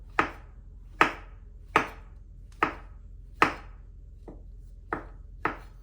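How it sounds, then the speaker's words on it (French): Peeled mushrooms are chopped into small pieces with a knife on a board: eight sharp, separate knocks at a steady, unhurried pace, close and clear, with no talking. "après avoir pelé les champignons, je vais les couper en petits morceaux"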